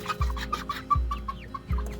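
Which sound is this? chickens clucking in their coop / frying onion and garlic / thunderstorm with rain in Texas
chickens clucking in their coop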